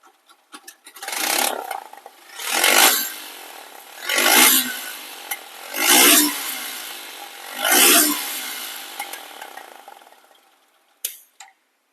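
A second-hand Suzuki Gixer SF motorcycle, its exhaust baffle removed, revs up close by in five rough bursts that each rise and fall back, with no talking over them.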